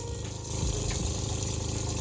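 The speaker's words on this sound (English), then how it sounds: "That is some hot water in the sink, baby." Hot water runs from a tap into a sink inside a shuttle bus converted into a tiny home, giving a steady close gushing that swells slightly after the first half second and stays even throughout.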